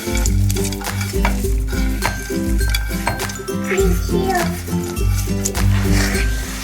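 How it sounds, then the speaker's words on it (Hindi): Whole moong dal roasting in ghee, stirred in a pan: a steady close sizzle with repeated rhythmic scraping strokes throughout, over background music. "दाल को भूनने के बाद अच्छी तरह से हम इसमें ऐड करेंगे ये जो मैंने ड्राई फ्रूट अपने रोस्ट करके रखे हैं"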